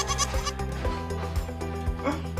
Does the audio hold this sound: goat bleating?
yes